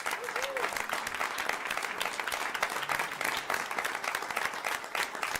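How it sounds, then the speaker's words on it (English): Applause for computer science teachers at a school board meeting, fairly quiet and distant, dense uneven clapping from the audience with a bit of murmur, continuing steadily for several seconds. "if I could ask for a big round of applause for our teachers,"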